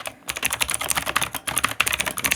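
Steady typing on a computer keyboard while entering text into a web page editor, a quick run of close, crisp key clicks with brief pauses, no talking.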